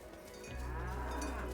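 Cows in the video game Dungeons of Hinterberg let out a single low, drawn-out moo that starts partway in and holds steadily to the end, close and moderately loud.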